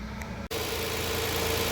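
Engine of a Hyundai Santa Fe on its first start, settling into a steady, smooth idle with a constant hum after a brief dip in level.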